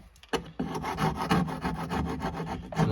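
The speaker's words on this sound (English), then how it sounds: "I just use a scraper. So what that is pretty much an old knife." An old knife ground into a homemade scraper rasps repeatedly across a Corolla's car body during prep for welding, producing a close, steady series of rough scraping strokes with no talk.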